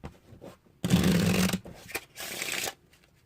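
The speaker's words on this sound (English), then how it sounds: "Let's shuffle this one face up into this one face down." A deck of playing cards is riffle-shuffled, one half face up into the other face down, in two quick bursts of close, crisp fluttering with short pauses between.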